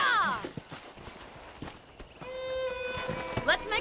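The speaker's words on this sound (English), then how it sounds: "I picked out a fine horse for you." Hooves clip-clop from a horse in the Red Dead Redemption video game, a quick irregular patter mixed with game music tones and a voice talking over it.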